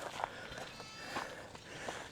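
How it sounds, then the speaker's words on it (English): Goats bleat in the background of a farm garden where onions are being planted, with a few short, faint bleats spaced through the clip over soft rustling and light footsteps. "You can probably hear the little goats in the background."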